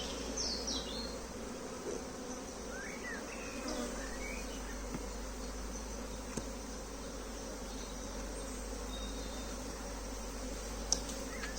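Honeybees in an opened brood nest give a steady, dense insect drone that runs evenly throughout, with a few faint bird chirps high above it.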